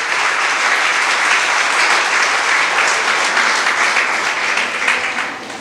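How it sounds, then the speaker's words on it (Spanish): A church congregation gives loud, sustained applause during a sermon, a thick unbroken wash of clapping from many hands throughout. "Si le va a aplaudir, apláudale como él se lo merece."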